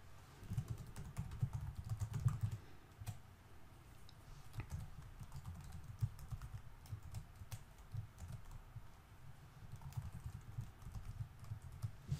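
Keys on a computer keyboard are tapped in irregular bursts of soft clicks, close and fairly quiet, pausing briefly between runs while a username, password and email address are entered.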